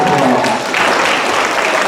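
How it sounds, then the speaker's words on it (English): Loud, dense applause from a concert audience at a school band performance, filling the space evenly from start to finish with some crowd noise mixed in. "y'all give Coach Curley and Emma a big round of applause"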